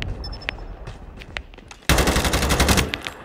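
Rapid automatic gunfire from the mobile shooter game Call of Duty Mobile, a few scattered shots first, then a dense, loud sustained burst of rattling fire lasting over a second.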